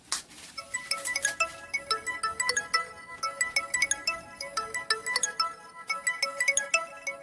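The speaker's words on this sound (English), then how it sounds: "Sorry guys, I'm getting a phone call." A mobile phone ringtone announces an incoming call, a bright chiming melody that repeats in steady pulses for several seconds, clear and fairly close, with no talking over it.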